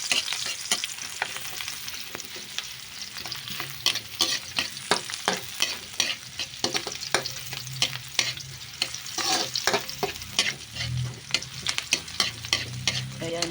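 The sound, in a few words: garlic frying in a pan for creamy sopas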